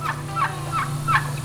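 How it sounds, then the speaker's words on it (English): Farm-raised turkeys gobble four times in a steady rhythm, each call close and clear over a low background hum. "We're gonna butcher 4 turkeys that we raised for meat"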